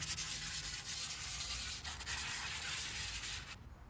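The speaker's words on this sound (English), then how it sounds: "it was time to start with the drywall sanding screens." Steady abrasive scraping of a drywall sanding screen rubbed across the metal surface of a new Blackstone griddle, continuous and close, with no talking, stopping just before the end.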